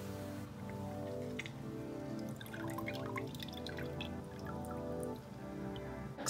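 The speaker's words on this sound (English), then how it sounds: "just add the juice right into the bowl of water" Lemon juice drips and splashes into a bowl of water in a quick, irregular patter, close by, with no voices.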